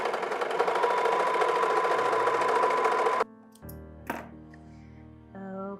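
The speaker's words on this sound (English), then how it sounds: "So I'm just doing a basic 4-thread serger stitch." A 4-thread serger runs fast and loud along a knit fabric edge for about three seconds, then stops, leaving quieter clicks and a short thump of handling noise.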